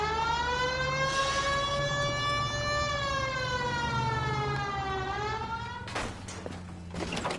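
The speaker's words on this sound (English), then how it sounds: "Hit the siren." A police car siren in the video game L.A. Noire wails steadily, its pitch rising and falling in a long sweep, loud and close, before clattering noises cut in near the end.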